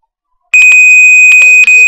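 A 2500 Hz test tone from a tone generator rings out as a loud, pure steady whistle after a brief silence, with a few faint voiced murmurs in the background.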